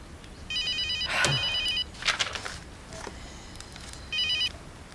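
A telephone rings in a series of electronic trilling bursts, two longer rings separated by a pause, with a sharp clatter and rustle in between as the handset is picked up.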